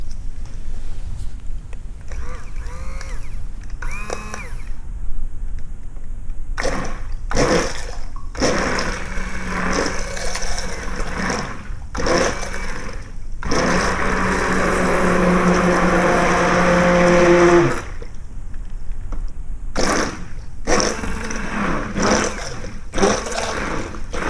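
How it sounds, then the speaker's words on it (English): A hand mixer whirs through homemade dog shampoo, running in several bursts with a longer steady stretch in the middle, loud and close, with short pauses between runs. "we'll just mix that in with the hand mixer a little"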